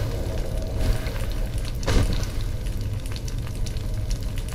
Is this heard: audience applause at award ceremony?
no